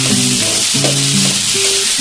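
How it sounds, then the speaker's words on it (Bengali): Boiled, mashed potato fries in a pan with salt, giving a loud, continuous close-up sizzle, with the scrape and clatter of stirring running through it. "স্বাদ মতো লবণ দিয়ে তারপর ভালোভাবে ভাজা নিব আলুটা"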